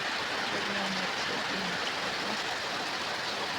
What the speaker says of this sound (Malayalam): പുറത്ത് നല്ല മഴയാണ് കേട്ടോ നല്ല തകർത്തമായിട്ട് മഴ പെയ്തുകൊണ്ടിരിക്കുന്നുണ്ട്